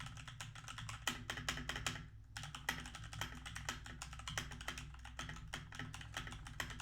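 A mechanical keyboard with Gateron red switches is typed on rapidly, mixing WASD keys and spacebar presses in a continuous clatter with one brief pause, picked up from behind a USB microphone with no voice.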